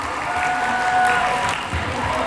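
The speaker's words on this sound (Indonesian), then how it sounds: "Sekali lagi berikan tepuk tangan yang meriah." A crowd at a Hari Santri Nasional speech competition at Pondok Pesantren Modern Al-Iman Tebelian claps steadily and fairly loudly, with a few faint cheers and no talking, for the full stretch.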